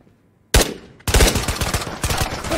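Gunfire in the VR shooter Ghosts of Tabor, a single sharp shot followed by a loud, rapid burst of automatic fire, close and continuous, with no talking.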